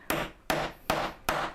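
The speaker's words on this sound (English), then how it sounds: "So a good 3 bangs with the hammer." A hammer strikes a concave setting tool fitted over a snap stud cap, four sharp, evenly spaced bangs about 0.4 seconds apart, close and loud with no talking.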